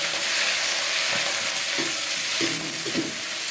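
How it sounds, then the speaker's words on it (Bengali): Chopped bottle gourd leaves fry in a pan with a steady, even sizzle and soft stirring noises, and no talking. "এটা ভালো করে সুন্দর করে ফ্রাই হয়ে যাওয়ার পর আমরা দিয়ে দেবো এতে কেটে রাখা লাউ পাতা।"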